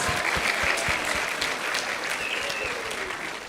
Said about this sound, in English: Let's give a round of applause for all of our 4 to 6-year-old contestants